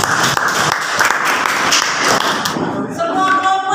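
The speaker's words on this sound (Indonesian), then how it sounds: "Pak, tepuk tangan untuk kelompok" Classroom applause for a student group after their presentation: a dense, steady patter of many hands clapping throughout, with some scattered taps and thuds, tapering toward the end.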